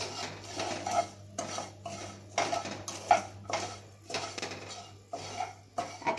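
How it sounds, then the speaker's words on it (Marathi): A spoon or spatula stirs cashews and pistachios as they warm in a pan for semolina and vermicelli kheer, giving irregular clinks and scrapes of utensil on metal in a steady rhythm, close and moderately loud with no talk. "एक काजू पिस्ता वगैरे आहे ना हे साहित्य ते सुद्धा मी थोडं गरम करून घेणार आहे."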